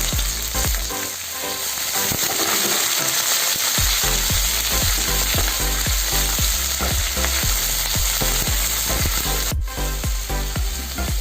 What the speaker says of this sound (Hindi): तापर मु रखी कटा कैप्सिकम आ पियाज को देकर भल भाव में भाजी नेबी।